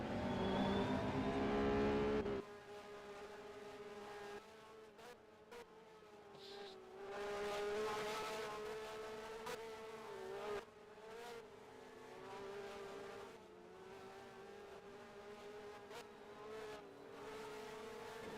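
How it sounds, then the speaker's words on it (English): Race cars circling a track in a GTI race at Lakeside Castle, engines rising and falling in pitch as they accelerate and shift, heard from a distance with a steady droning hum. "There's the cars now making their way through the track."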